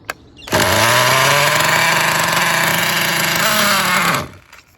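A large, temperamental model aircraft engine buzzes loudly, running steadily at high speed for several seconds, then cuts off abruptly, close by with no talking.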